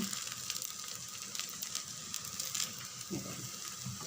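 Instant wheat-and-rava dosa with carrot, onion, green chili and coriander sizzling on a pan; a faint, steady hiss and crackle, close but quiet, with no talking.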